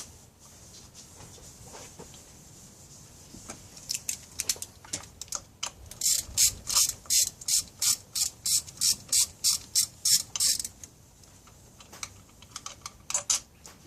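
Rapid ratchet clicking from a socket wrench backing out the throttle body bolts on a GSR intake manifold, a steady run of about a dozen sharp, close clicks with scattered shorter bursts before and after.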